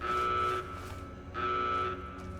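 An alarm in the video game Fallout: New Vegas, two long blaring electronic tones repeating at a steady interval, moderately loud over a low background hum.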